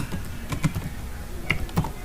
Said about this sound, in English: let me just type in